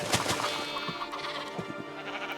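Sheep in the Minecraft video game bleat close by, several quick wavering cries in a row, loud and clear over a faint background hum, with no talk.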